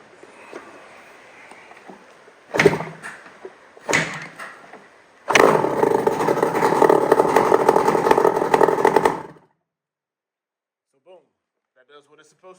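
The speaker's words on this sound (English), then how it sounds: "We don't have any exhaust on there. I just wanted to make sure it fires." A 1993 Yamaha Banshee upgraded to a 421 big bore, run with no exhaust fitted, bursts into a loud, raw two-stroke roar for several seconds after two short kicks, then cuts out abruptly.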